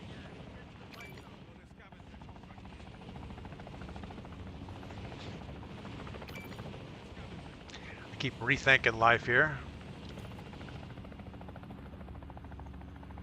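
A transport plane drones in the video game Call of Duty Warzone. Its engine gives a steady, rumbling hum through the whole stretch, and a voice speaks briefly over the noise near the end.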